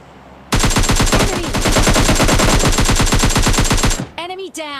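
Rapid automatic gunfire from a PUBG Lite match, a dense run of loud, evenly spaced shots lasting about three and a half seconds, then cut off and followed by brief clanking game effects.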